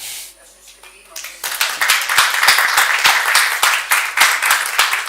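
Applause from a small group, a burst of clapping that starts after a brief quiet moment and continues steadily, fairly close.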